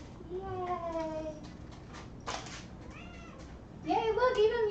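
A pet cat named Meow Meow gives several clear meows, drawn-out rising and falling cries in two bursts with a gap between, close to the mic over a faint room hum.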